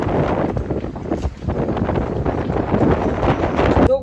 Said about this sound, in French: il y a eu une rafale, ça a fait trembler tout le bateau